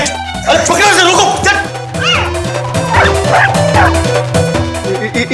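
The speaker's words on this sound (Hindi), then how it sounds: "कुत्ता क्यों लेके आ गए?" A dog barks, yips and whimpers near a group of people, under a loud music score, while people talk excitedly over it.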